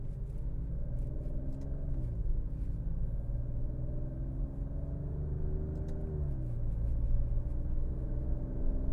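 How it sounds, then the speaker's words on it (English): A 2020 Alfa Romeo Stelvio Quadrifoglio's V6 rumbles at moderate level from inside the cabin, with engine pitch dropping sharply in a couple of quick, crisp downshifts and no talking. "You can hear just how crisp those downshifts are and lightning fast."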